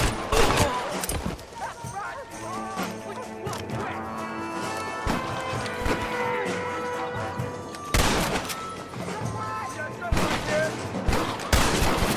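Gunfire in the Western video game Red Dead Redemption, dense volleys of shots and sharp impacts layered over music and in-game voices, with loud bursts recurring throughout.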